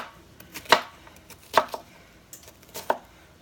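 A large knife chops through an onion on a cutting board, three distinct thuds spaced about a second apart, close and clear with no talking.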